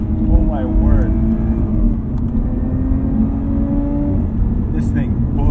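A 2020 Lotus Evora GT's engine holds a steady rumbling drone through a hard cornering run, heard from inside the cabin while someone talks over it.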